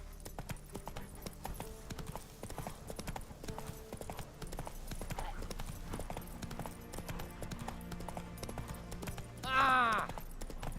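Horse hooves clip-clop steadily on the ground in the video game The Witcher 3, a faint, even rhythm under game music and ambience, with a brief louder squeal near the end.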